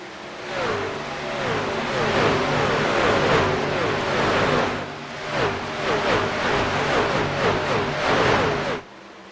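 Several stock cars racing side by side in an eNASCAR game at Charlotte, a continuous loud engine drone with repeated rising and falling rev sweeps from multiple cars, steady throughout before cutting off near the end.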